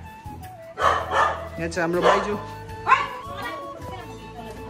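A dog barks several times in quick, yapping bursts close by while people talk over it.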